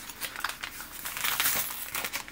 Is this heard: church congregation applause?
no